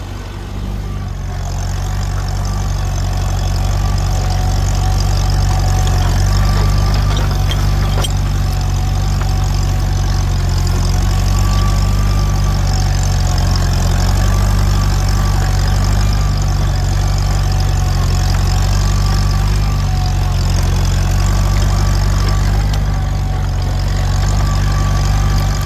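An antique tractor engine pulls a plow uphill in second gear at three-quarter throttle during a plow day, a loud, steady, low chugging drone that holds unbroken throughout with no talk.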